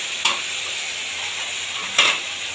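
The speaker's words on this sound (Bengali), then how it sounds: "হালকা তেলে নেড়ে চেড়ে নেবো" Small shrimp stir-frying in light oil, with a steady low sizzle throughout and two brief louder scrapes of stirring.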